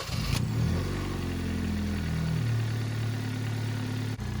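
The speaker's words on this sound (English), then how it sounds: "Now the only thing left to do is start the engine up" A 2019 Kia Optima engine idles steadily with a low, continuous rumble, its pitch shifting slightly early on before settling into an even hum.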